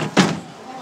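Drawer of an IKEA BESTA TV bench pulled open, one short sliding thud lasting a fraction of a second before fading into quiet room tone.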